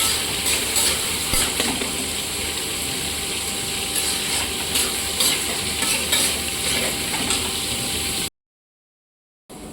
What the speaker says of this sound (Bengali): এবার এটাকে খুব সুন্দর করে লাল লাল করে ভেজে নেব।